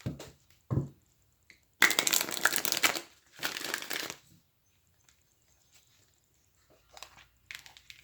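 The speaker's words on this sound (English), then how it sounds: "Let me give this a few shuffles." An archetype card deck is shuffled for a pick-a-card spirit guide reading: two separate rustling, riffling bursts of about a second each, close and crisp, with soft handling taps between them and no talking.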